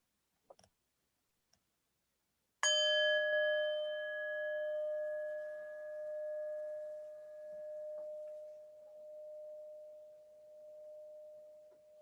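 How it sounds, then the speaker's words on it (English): A meditation bell is struck once, ringing out in a long, clear, gradually fading tone with a slight pulsing shimmer, preceded by a few faint taps in a quiet room with no talk. "when I hit the bell, we can start by taking a few deep breaths"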